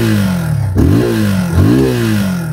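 A Yamaha FZ25 motorcycle engine idles with a steady throb, then is revved sharply twice, each blip rising quickly and falling back, loud and close with no talk.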